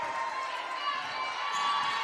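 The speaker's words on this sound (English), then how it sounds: "Crowd starting to get into it." Crowd cheering and shouting in a gym during a girls' high school basketball game, a steady, fairly loud wash of voices with a few higher shouts, with no break through the short stretch.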